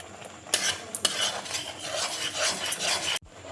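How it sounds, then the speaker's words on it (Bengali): A spice mix roasting in a pan is stirred briskly, making a dense, close scraping and rasping of a utensil against metal over a light sizzle, stopping abruptly near the end. "মশলাটা দেখো ভালো করে কষিয়ে নেব।"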